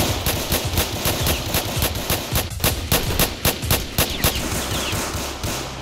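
Loud, rapid gunfire from a Roblox South Bronx hood roleplay game rattles in dense repeated bursts across the whole stretch, close and continuous with only brief gaps.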